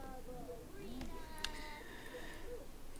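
A kitten in The Sims 4 gives a few short meows, faint and mixed under someone talking over the game.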